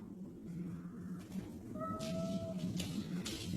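A cat meows once, a short rising call that stands out clearly over a low background hum and faint room noise, moderately close.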